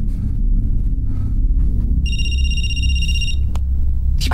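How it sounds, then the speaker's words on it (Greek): A telephone rings in the Night Book horror game, a bright electronic trill that holds steady for about a second and a half over a constant low rumbling drone, then cuts off with a sharp click. "Παίρνει τηλέφωνο."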